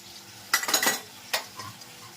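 A tempering (vaghar) for a fenugreek and chickpea curry gives a quiet sizzle, broken by a few sharp bursts of stirring and spitting oil close by.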